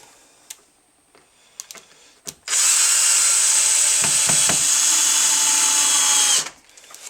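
A power drill drives 2-inch exterior screws into wooden cleats for a beehive insulation setup, one steady high whine lasting about four seconds and then stopping, with light taps and handling before it.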